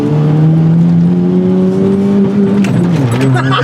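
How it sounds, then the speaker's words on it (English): A four-cylinder Chevrolet S-10 pickup engine runs close by, a loud steady drone that rises slightly in pitch, then dips near the end. "I hate four cylinders, but I do kind of like that it sounds like this."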